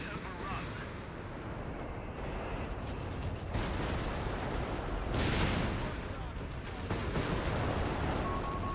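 Artillery barrage in a real-time strategy game, a dense continuous roll of booming shell impacts and blasts with rising bursts, loud and sustained throughout.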